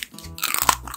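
A single close, crisp crunch of a bite into a cola-flavored jelly candy, followed by a brief moment of chewing.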